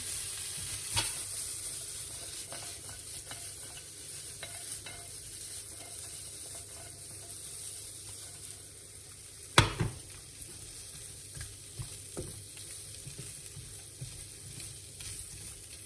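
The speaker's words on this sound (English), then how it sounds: "the onions are coated in the bacon fat, which is what you want" Onions sizzle in bacon fat for a bacon and mushroom risotto, a low steady crackle with intermittent stirring scrapes and one sharp clank of the utensil against the pan, close and quiet.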